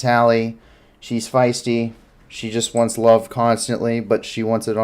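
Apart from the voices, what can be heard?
No distinct noise like a dog, phone or traffic.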